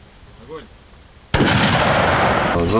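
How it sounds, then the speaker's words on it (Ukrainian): After a quiet moment with a faint voice, a hydrodynamic disruptor fires water at an explosive device: a powerful blast erupts suddenly and sustains as a loud rushing burst, followed by a second sharp hit. "Гатить він з неймовірною силою та стріляє не патронами, а звичайною водою."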